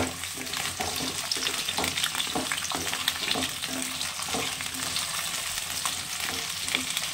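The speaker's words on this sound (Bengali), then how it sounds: "পটল আর আলুটা একসঙ্গে আমি ভেজে নেব। দুটোই লাল লাল করে ভেজে নেব।" Whole pointed gourds and potatoes fry together in hot oil in a pan, a steady close sizzle with frequent rapid scrapes and clinks from stirring, no voices.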